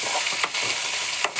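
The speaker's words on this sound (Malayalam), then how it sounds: "സവാള എണ്ണക്കിടന്ന് നന്നായിട്ടൊന്ന് മൂത്ത് വഴണ്ട് വരണം" Onions sautéing in coconut oil for an egg curry, a dense continuous sizzle with a couple of brief stirring scrapes, close and steady with no talking.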